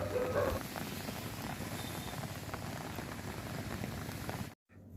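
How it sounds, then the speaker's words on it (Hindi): Heavy rain mixed with hail falls for a steady, dense hiss of drops on surfaces, nearby and continuous, with a brief cutout near the end. "ओछड़ी एवं आसपास क्षेत्रों में लगभग आधे घंटे तक बारिश के साथ ओलावृष्टि हुई"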